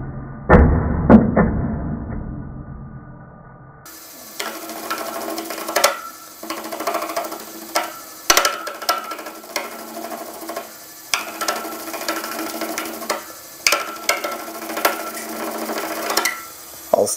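Lathe at about 1400 RPM turning a resin dragon's egg, the tool cutting shavings in repeated scraping, rasping passes with short pauses between, close and fairly loud after a quieter start.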